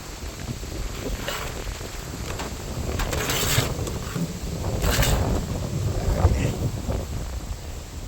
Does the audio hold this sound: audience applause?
no